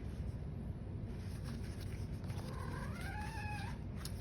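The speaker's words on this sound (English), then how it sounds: "That is one of my Siamese style kittens singing in the background" A Siamese-style kitten lets out a single long, wavering meow, faint and off in the background over a steady low hum.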